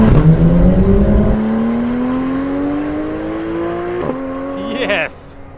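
A 2015 Porsche 911 GT3 engine revs hard and loud, its pitch climbing steadily through a long pull before dropping off sharply near the end, with a tire chirp at the tail.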